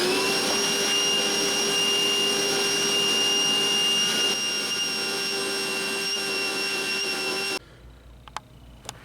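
A shop vac steadily vacuums broken windshield glass out of a Jeep Wrangler JK: a loud, constant whine and hiss that runs unbroken, then cuts off abruptly, leaving a few faint clicks in near silence.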